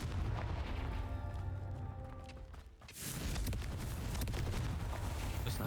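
A Confringo fire spell in Hogwarts Legacy bursts with a loud, sustained blast that dips briefly and then roars back under a dense game soundtrack.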